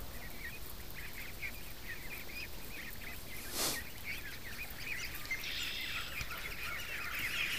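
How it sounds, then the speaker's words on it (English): Young ducklings that have not yet learned to quack peep in a steady stream of small, high chirps close by, growing a little livelier toward the end. "this sound before they get their quack, it's so peaceful"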